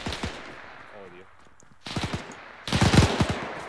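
Machine guns fire in 82AD Liberation, a World War II shooter: short bursts of automatic fire rattle at moderate distance, pause, then return in two louder, denser volleys.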